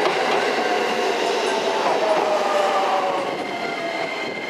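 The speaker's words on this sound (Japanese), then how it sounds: "乗る電車がね、入線してきました。" A one-car Kakogawa Line train pulls into a station platform, a steady rumble of wheels and motor with rail clatter, close and loud, easing slightly as it slows.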